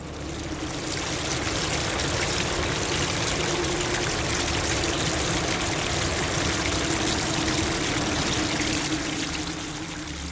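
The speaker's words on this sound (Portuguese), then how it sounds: "O mar sobe e preenche o ambiente de água." Rising sea water filling a space, heard as a loud, continuous rushing wash of flowing water that holds steady for about ten seconds before easing slightly at the end.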